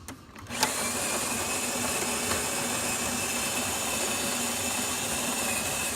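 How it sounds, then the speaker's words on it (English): A Jura espresso machine's built-in grinder grinds coffee after a full tune-up, starting abruptly and then holding a steady, loud, close whirring buzz with a constant hum until the end. "The grinder sounds just fine."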